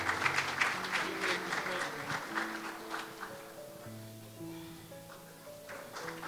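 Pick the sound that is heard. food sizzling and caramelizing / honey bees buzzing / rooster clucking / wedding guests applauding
wedding guests applauding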